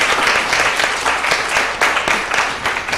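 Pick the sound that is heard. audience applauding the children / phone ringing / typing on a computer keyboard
audience applauding the children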